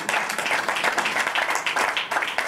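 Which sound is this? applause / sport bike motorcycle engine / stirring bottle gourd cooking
applause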